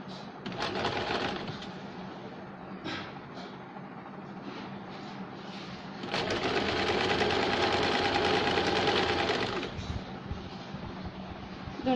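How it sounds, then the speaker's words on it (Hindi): A sewing machine stitches the bottom hem of a dhoti salwar in several close mechanical bursts, with its longest and loudest run in the latter half. "अब हम नीचे बॉटम की ओर पहले सिलाई लगाएंगे"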